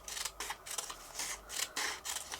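Scissors snipping through paper down the centre, a close series of short rasping cuts in uneven rhythm with small gaps between strokes, no speech.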